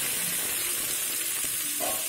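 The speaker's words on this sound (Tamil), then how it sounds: "நல்ல வெங்காயம் வதக்கணும்." Thinly sliced large onions sauté in hot oil for an egg onion roast, a steady close sizzle and hiss with a faint stir near the end.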